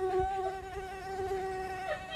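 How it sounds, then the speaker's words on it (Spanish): A housefly buzzes close by in a sustained, steady drone with slight wavering pitch, loud and continuous throughout, with no talk over it. "Otra vez ya llegó la mosca."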